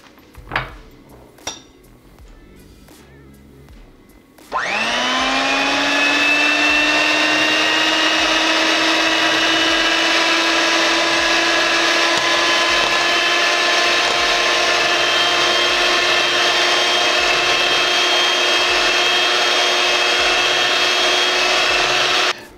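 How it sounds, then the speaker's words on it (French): A black electric mixer beats cornbread batter with sugar, starting after a few clinks and knocks, then a loud, steady motor whine holds for a long stretch before cutting off at the end. "on va utiliser batteuse noire."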